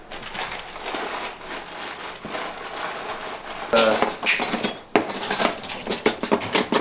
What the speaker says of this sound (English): Get a little bit of your silverware together and roll it up in the paper